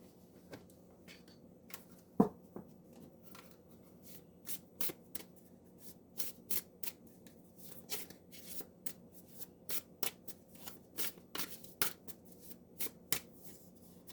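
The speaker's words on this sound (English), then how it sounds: "we're going to pull our oracle card" Oracle deck being shuffled by hand: a steady, soft series of card riffles and flicks, close but quiet, ending as a card is pulled, with no talking.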